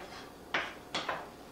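A kitchen cupboard is opened to take out a large frying pan, giving two or three close, sharp clunks and knocks against a quiet background.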